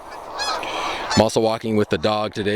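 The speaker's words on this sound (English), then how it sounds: "You can hear the geese in the background." Geese honking repeatedly in a loud, rhythmic series of nasal calls outdoors, beginning faintly under a man's speech and then dominating in close, insistent bursts.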